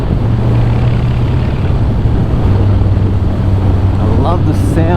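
A Harley-Davidson Breakout motorcycle cruises on an afternoon ride, its low engine drone buried under loud, constant wind rumble against the microphone, with a brief voice near the end.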